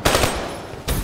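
Rapid automatic XR2 rifle fire in Black Ops 3, a close, loud burst of rattling shots that pauses briefly before another burst.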